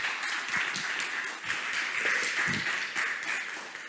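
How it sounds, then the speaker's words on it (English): A live audience applauds after a startup pitch at a global pitching competition final, a dense wash of clapping that holds steady at moderate level for a few seconds with no voices over it. "Again, a big applause."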